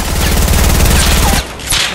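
Submachine gun fire in a video game: a loud, rapid burst of shots for about one and a half seconds, then a brief pause and a short trailing rattle.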